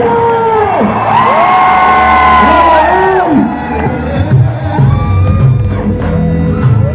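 A university auditorium crowd cheers and whoops loudly, with shouting voices rising and falling over a continuous roar of applause, close and dense throughout.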